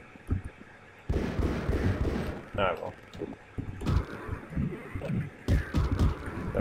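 Pistol fire in the video game Half-Life: several sharp, loud shots spaced a second or two apart, mixed with in-game ambience and a person talking.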